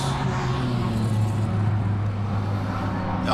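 Clubman saloon racing car engines drone steadily nearby as they cross the finish line, a continuous low motor roar with a faint rise at the very end.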